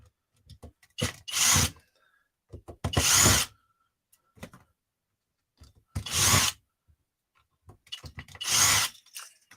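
A small power driver spins out screws to remove the top of a carburettor in a workshop, giving four loud whirring bursts of about a second each, with light tapping and handling sounds in the gaps.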